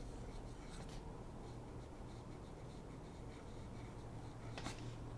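Fountain pen writing a name on paper, a soft continuous scratch close up over steady background hiss, with a couple of brief lifts.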